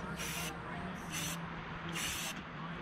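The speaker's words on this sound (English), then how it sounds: "So I was gonna spray paint this table" Three short bursts of spray paint hiss onto a table, evenly spaced about a second apart, close and fairly quiet over low background noise.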